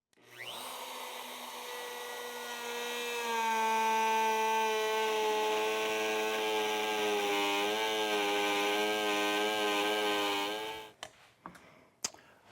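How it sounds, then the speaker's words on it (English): Handheld router routing clamp cutouts in plywood along a taped-down template, a loud sustained high whine that holds steady for about ten seconds, then spins down and stops, followed by a few faint clicks. "So I'll go ahead and tape this down on each one of those and route those out as well."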